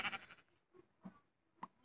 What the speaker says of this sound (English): I'm going to kill the sheep, though, because I have a wood sword.